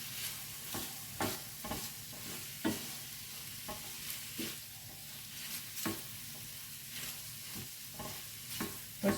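Pearl couscous with chorizo and shrimp cooks in a pan over medium-high heat, giving a soft continuous sizzle broken by repeated scraping stirs, close and moderately quiet with no talking.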